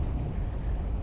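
Steady wind buffeting the microphone while riding a Burgman Street 125 scooter through Santa Maria, Ilocos Sur, a continuous low rumbling roar with no talk.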